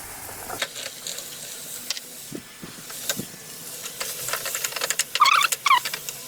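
Chickpeas fry in a pan with potatoes and a little salt, giving a soft crackling hiss with scattered pops and a few squeaky scraping sounds near the end.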